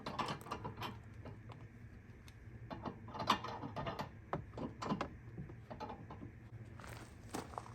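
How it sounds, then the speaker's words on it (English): Bolts on both sides of a weight distribution hitch being tightened, giving a run of faint metallic clicks, ratcheting and scraping sounds at irregular intervals, with a couple of sharper knocks, close by and quiet. "If you didn't know what we were tightening, it's these bolts right here on both sides."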